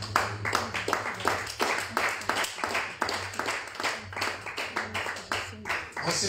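A church congregation claps in steady rhythmic applause, many hands beating together close and loud, with voices mixed in underneath.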